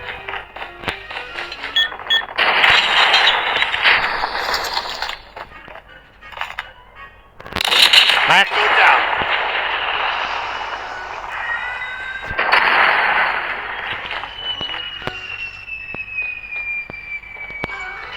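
Loud bursts of explosions and rapid gunfire in the video game Call of Duty, repeating in waves with brief quieter gaps between, close and dense throughout.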